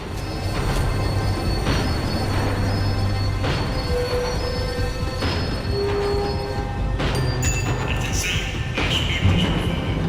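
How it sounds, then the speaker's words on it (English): A tram in Max Payne 3 slows down with a continuous loud rumbling rattle, periodic clunks and rising metallic wheel squeals toward the end. "tram was slowing down, and I'd only just gotten on board."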